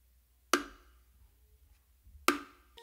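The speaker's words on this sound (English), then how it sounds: "After doing that slap on the macho with my dominant hand" Two sharp slaps on the macho (small drum) of a set of bongos, struck with the dominant hand, ring out about two seconds apart, each a crisp crack with a quick decay in a quiet room.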